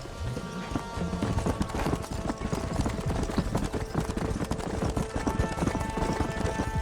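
Horse galloping in Red Dead Redemption: steady, rapid clip-clop hoofbeats carry continuously through the whole stretch at a moderate level.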